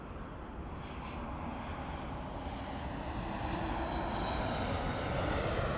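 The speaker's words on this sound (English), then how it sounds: "I hear the engine starting up on the 737." A Boeing 737 jet engine starts up at LAX, a loud broad roar that builds steadily and stays constant, heard alone without voices.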